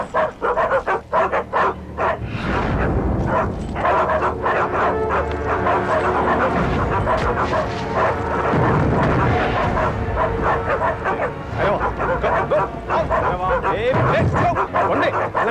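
Dogs barking at newcomers arriving at a house, repeated loud barks and yips with some whimpering over several seconds, mixed with people talking.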